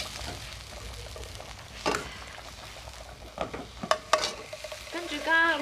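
A fish sizzles steadily in a hot pan, frying until fragrant before it goes into a soup pot. A few sharp utensil clatters rise out of the hiss, with a brief tonal ringing near the end.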